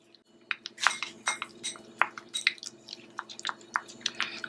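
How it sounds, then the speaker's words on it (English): Parsley juice is slowly stirred into Vaseline in a small dish, giving a run of close, soft squishy clicks and light clinks of a utensil against the dish at an uneven rhythm. "I find it easier to just slowly blend the parsley juice in the Vaseline without melting it"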